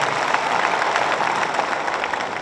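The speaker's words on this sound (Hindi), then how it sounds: "ऐसे सीनियर एडवोकेट एच.एस. फुल्का जी का हम ताली बजा के जोर से स्वागत करते हैं।" Audience applause welcoming a senior advocate at a public speech event, dense continuous clapping from a large crowd held at a steady, fairly loud level throughout, with no talking.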